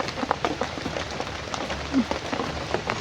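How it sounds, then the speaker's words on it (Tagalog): Steady rain falling outdoors in the Philippines, a dense hiss of drops hitting surfaces with scattered louder patters close by, continuous throughout and without talk. "Ulan dito sa amin."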